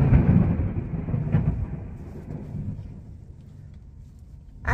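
Thunder rolls during an approaching storm, a low rumbling boom that starts strong and slowly fades over several seconds, heard from inside an RV travel trailer with no talking.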